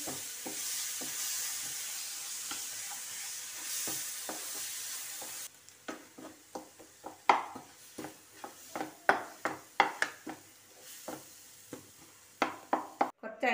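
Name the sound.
stirring and cooking ripe mango in a pan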